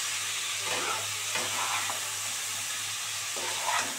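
Tomato frying with spices in a pan for a Bengali cauliflower and lentil-fritter curry, giving a steady low sizzle with a few soft stirring scrapes, close by and with no talk.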